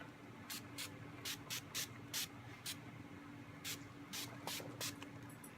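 A makeup finishing spray is misted onto a face in bursts of short, close, sharp hissing spritzes, roughly a dozen in quick irregular succession over a low steady background hum.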